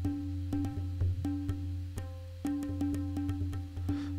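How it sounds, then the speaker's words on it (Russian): Tabla percussion loop for an Afro House track: crisp, sharp strikes in a repeating pattern over a deep, sustained resonant bass tone, steady and moderately quiet, without talking. "Инструмент табло – это перкуссия."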